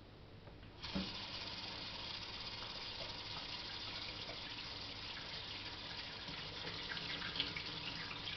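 A kitchen tap starts running warm water to pour over yeast, a sudden gush followed by a steady, close rushing stream that continues without talk.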